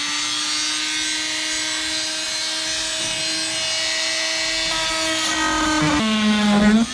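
Continuous scraping and rubbing as wood is pried up from the transom of a Glasspar G3 fiberglass boat, a steady close grating with a tonal whine that shifts pitch near the end.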